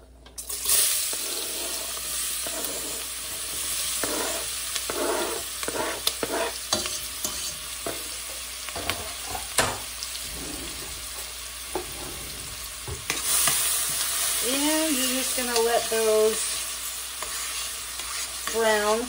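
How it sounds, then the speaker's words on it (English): Chopped onions fry in a pot for corn chowder, a steady sizzle with repeated scrapes and clacks of stirring and a brief rush of running water near the end, all close and with no talking. "Brown for a few minutes till they're translucent."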